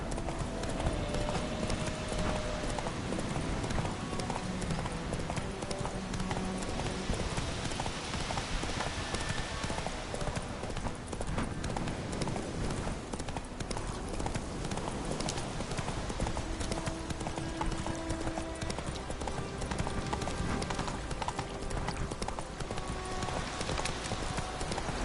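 Roach the horse gallops in The Witcher 3, hooves beating a fast, steady clip-clop rhythm up close over an outdoor ambience, continuing without pause for the full stretch.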